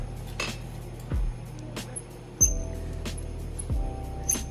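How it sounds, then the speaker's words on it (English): A Crate and Barrel potato masher works through food in a pot during holiday cooking, producing a few spaced, close metallic clanks and scrapes against the pan bottom, with quiet gaps between strokes. "This is meant to be the world's greatest masher."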